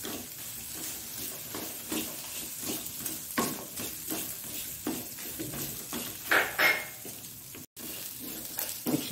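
Shallots and fenugreek fry in a pan for a Mangalore-style methi shallot gravy: a constant soft sizzle under repeated scraping strokes of a spoon in an uneven rhythm, close up with a brief gap. No one talks over it.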